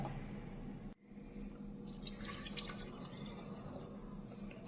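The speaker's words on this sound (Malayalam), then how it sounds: "നമുക്ക് വെള്ളം ഒഴിച്ച് വേവിക്കാം" Water pours into a cooking pot of chopped ash gourd, a steady splashing trickle that starts after a brief cut near one second and runs on without talk.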